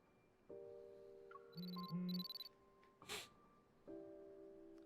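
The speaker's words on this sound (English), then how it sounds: "My hunter's watch suddenly sounds an alarm." A hunter's watch alarm in the game Love and Deepspace, heard as a run of short electronic beeps and chimes against soft game music, fairly quiet and clean.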